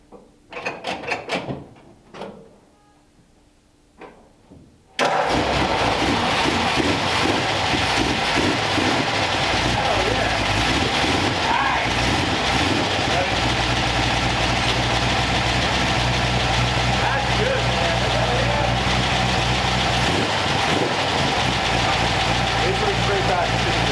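Roadster car engine with a freshly recharged battery catching after some clunks and movement, then settling into a loud, steady idle that runs without pause for nearly twenty seconds.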